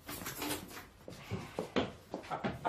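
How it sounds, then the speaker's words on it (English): A connecting door in an indoor drama scene opens with a quiet series of wooden clicks, knocks and soft thumps spread over a couple of seconds. "We can use the connecting door."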